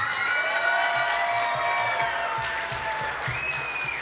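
An audience at a live rock cover band performance applauds steadily and loudly throughout, with dense clapping and some cheering over sustained music tones.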